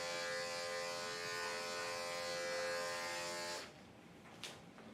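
Electric clippers buzz steadily, close and loud, while shaving a senior Yorkie dog, then cut off abruptly and leave quiet room noise with a faint rustle.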